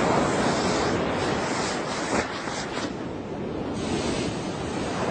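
Ocean surf rolls in where flowing lava reaches the sea, a loud continuous roar of waves mixed with wind buffeting the microphone.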